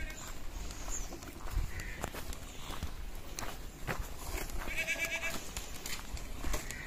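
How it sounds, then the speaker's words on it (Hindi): Goats in a rural farmyard bleating a few times amid shuffling hooves, rustling and outdoor background noise, with a clear bleat near the end standing out over the scene. "ये छोटा सा बच्चा पैदा हुआ बकरी का"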